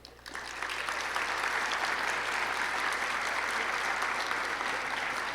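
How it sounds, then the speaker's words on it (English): Sustained audience applause at a physician assistant program white coat ceremony at Ohio Dominican University, starting with a few claps and quickly swelling into steady, dense clapping from a large crowd that continues evenly throughout. "Do you have them hold their applause to the end?"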